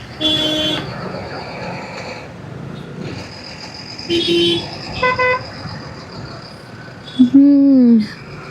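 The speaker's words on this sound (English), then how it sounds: "There are literally so many trucks also going this way." Road traffic with trucks on a drive toward Ananthagiri Hills sounds with repeated horn honks over a steady engine and road rumble, including a closer, longer horn blast near the end.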